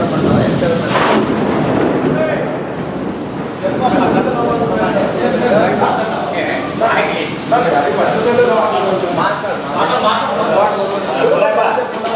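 A thunderstorm with rain over an outdoor public meeting in Anantapur district: loud, steady rain with rolling rumbles and a sharp crack near the start, under voices.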